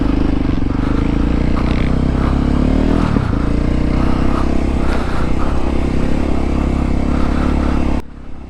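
A 2023 Voge 300 Rally motorcycle on the move, its single-cylinder engine droning loud and steady with a low throbbing hum and wind rush, slight changes in engine pitch, then cutting off sharply near the end.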